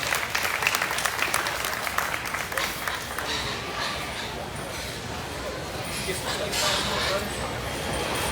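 A crowd applauds at a junior crossbred gilt livestock show as the exhibitors lead their pigs out, loud clapping at first that settles into a softer, sustained patter with faint background bustle.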